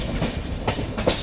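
Mandovi Express rolling along the Konkan Railway near Roha during the monsoon: a steady low rumble from the carriage with a few distinct clickety-clack beats of the wheels over rail joints, heard from on board.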